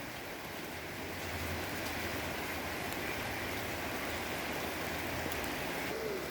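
Steady rain falls outdoors while water spinach is planted in a garden, a constant soft broadband patter at moderate distance with no voices.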